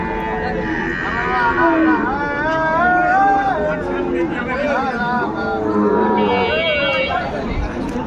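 Cattle moo and low among a busy crowd at a livestock market in Barishal, Bangladesh, selling Sahiwal bulls and calves, with people chattering throughout in a noisy outdoor market.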